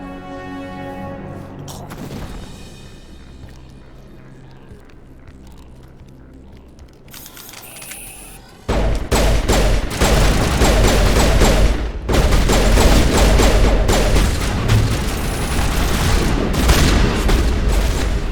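Shotgun blasts in Mass Effect 1, a rapid run of heavy booming shots over battle noise after a quieter, tense stretch, loud and close.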